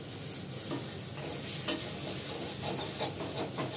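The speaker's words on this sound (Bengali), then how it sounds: "পোস্তটা জাল দিয়ে নিলাম কেন" Poppy seeds being heated and stirred in a pan, with a soft continuous sizzle, light scraping from the stirring and one brief sharp click.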